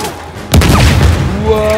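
A grenade blast in the action game Uncharted 4 erupts suddenly as a single loud, close boom partway through, its rumble and debris ringing out for over a second afterward, with combat noise and a shouted voice around it.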